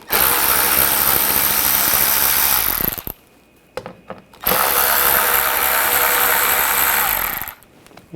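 A power tool fitted with an 8mm socket spins out screws on a 2007-2013 BMW X5 front grille, in two loud sustained bursts separated by a short quiet gap with small clicks.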